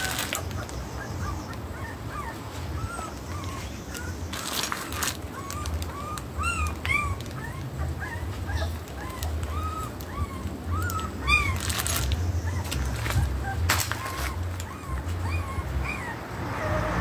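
A litter of puppies whimpers, yips and gives high squeaky cries, with overlapping calls coming in frequent bursts close by over a low outdoor background hum.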